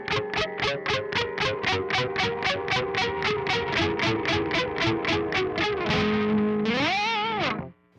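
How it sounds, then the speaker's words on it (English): A palm-muted electric guitar plays a heavy, dissonant metal riff through gritty distortion, about twenty rapid, even down-picked notes in a driving rhythm, ending on a wavering bent note that rings out before cutting off. "the down picks sound really cool, really gritty, and even do them up here on the high strings"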